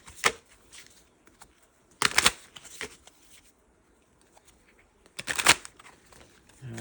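Playing cards are shuffled in three quick riffling bursts, each a sharp flutter of snapping cards, separated by quieter handling and soft taps.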